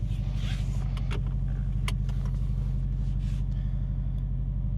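A project car's engine idles while warming up, a steady low rumbling throb close by, with scattered clicks, rustles and handling noises over it.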